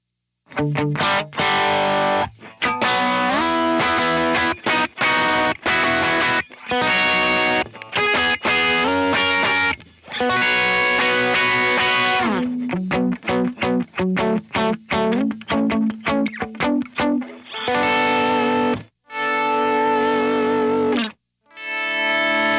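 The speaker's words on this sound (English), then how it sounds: "You kind of hear how the actual drive texture, the grit, and all of that just blooms into the amp breakup" Gritty overdriven electric guitar through a Prescription Electronics RX Overdriver pedal plays loud chords and phrases in bursts, separated by short silences, with a thick, saturated distorted tone breaking up the amp.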